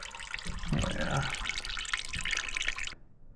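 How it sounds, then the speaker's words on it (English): Dirty water pours and splashes out while an overheating 858's cooling system is flushed, a fairly close gushing, dripping flow that cuts off abruptly near the end. "Water was pretty dirty coming out."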